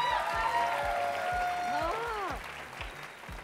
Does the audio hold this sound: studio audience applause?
yes